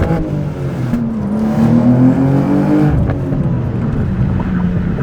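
A BMW M2 G87 sports car of roughly 530 horsepower accelerates hard, its engine note climbing loudly in pitch through the gears with a brief shift dip, heard from inside the cabin.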